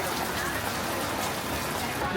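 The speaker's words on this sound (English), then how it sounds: "The rain is really coming down now." Steady heavy rain in Paris hisses and patters on surfaces nearby, a dense unbroken wash of sound with faint voices underneath.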